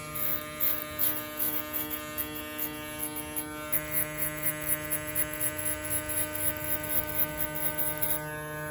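Close Stylecraft electric hair clipper buzzing steadily, with a run of rhythmic crunchy cutting strokes through hair pulsing over the motor hum; no talking.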